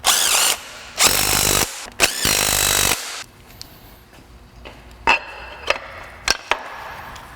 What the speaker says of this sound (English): I'm going to tighten up these other transmission fasteners.